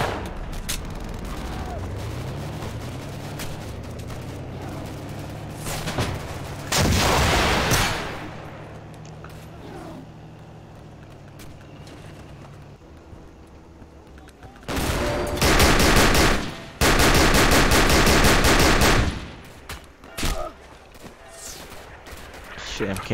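Gunfire in the World War II shooter Darkest Hour: Europe 1944-45 during an assault on St Clement, with heavy bursts of rifle and machine-gun fire and booming shots coming in loud clustered waves over a low background drone.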